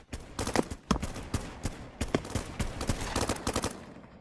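Rapid bursts of gunfire from people shooting somewhere off to the side, sharp repeated cracks in irregular clusters, moderately loud against steady background noise with no talk.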